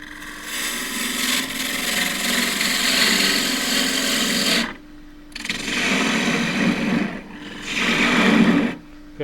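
A wood lathe turning a cracked fiddleback redgum blank at roughly 1500 rpm, its steady broadband whir and cutting hiss sounding close and loud in three long bursts separated by brief quiet gaps.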